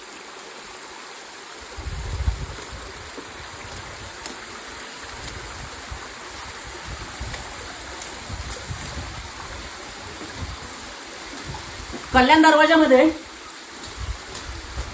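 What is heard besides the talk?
rainwater cascading down fort steps like a waterfall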